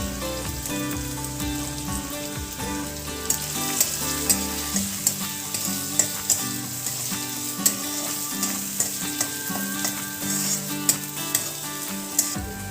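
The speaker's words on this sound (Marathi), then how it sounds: "तेल गरम झालं आहे। आता ह्याच्यामध्ये आपण कांदा टाकूया। हिरवी मिरची," Onion and green chilli fry in hot oil, a loud, steady sizzle with constant crackling and regular stirring knocks of a spoon against the pan.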